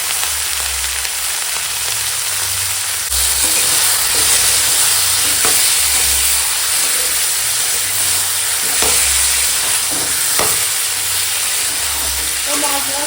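Drumsticks, potato, ridge gourd and tomato sizzle loudly as they are sautéed in a pan for a Bengali catla fish curry, a continuous close hiss with occasional soft stirring knocks.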